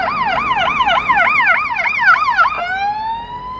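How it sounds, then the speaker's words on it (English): A fire engine siren wails in a fast up-and-down yelp, then shifts to a long falling tone as it passes along a Chicago city street near the Loop, loud and close over steady traffic hum. "Here comes, here comes a fire truck heading through here."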